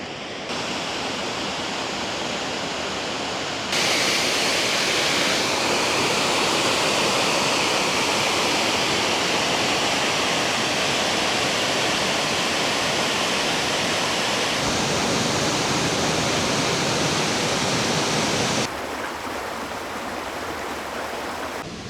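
Water rushing over a weir in a Finnish city, a loud, broad, steady roar of falling water that swells and shifts in intensity over the clip, with no voices.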